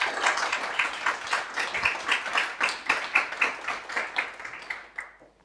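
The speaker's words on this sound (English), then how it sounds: "I hope you'll put your hands together," Audience applause at a literary festival in Dingle, Ireland: a small crowd claps steadily and moderately loud for about five seconds, then the clapping thins and fades out at the end.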